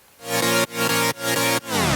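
Sylenth init patch saw synth chords, bright and buzzy, swelling in four sustained chord hits with short gaps between, loud and alone.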